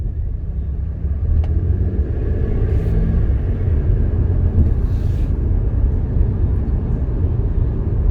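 Steady, loud low road rumble from a 2008 Chevy Impala driving smoothly, a continuous engine and tire drone inside the car with no speech.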